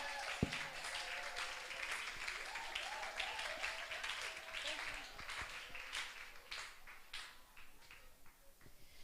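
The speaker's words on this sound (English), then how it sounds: "with a resounding round of applause, and I want it to be the loudest" Applause fills a school orientation and wellness talk, a broad audience clapping steadily for the whole stretch with a few sharper claps standing out, moderately loud and continuous, with faint voices and cheers mixed in.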